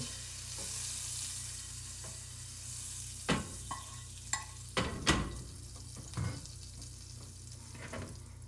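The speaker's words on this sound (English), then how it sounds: "It's sizzling already." Steady frying sizzle of pancake batter hisses throughout, with occasional sharp clinks and scrapes of a utensil against the pan; no voices.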